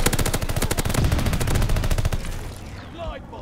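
Automaton rifle gunfire in Call of Duty: Vanguard, a rapid, evenly spaced automatic burst lasting about two seconds, loud and close, then cutting off into quieter game ambience.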